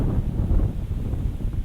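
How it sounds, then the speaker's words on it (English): A morning breeze blows across an outdoor microphone, giving a steady, fairly loud low rumble and buffeting with no voices. "Quite often when the sun's approaching, the wind picks up."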